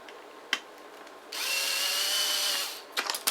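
A power drill whirs for about a second and a half as it bores out a part on a Freewing 70mm F-16 Falcon RC jet model, framed by small clicks and handling taps before and after.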